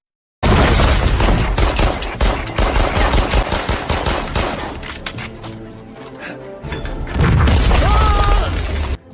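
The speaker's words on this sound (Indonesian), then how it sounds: "Ia kemudian menekan detonator untuk meledakkan tangki-tangki minyaknya sendiri" Oil tanks blow up in a war film set at Stalingrad: heavy booms and rapid crackling bursts like gunfire roll loudly, ease into a rumbling lull, then swell again near the end.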